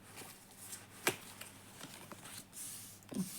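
Tarot cards being shuffled and drawn at close range, soft papery riffles and flicks with one sharp slap as a card is pulled, quiet and with no talking.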